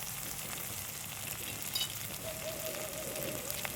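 Steady sizzling and crackling of chili powder, turmeric and rock salt sautéing in a hot pan for chicken curry, continuous and close, with a faint scrape of stirring partway through.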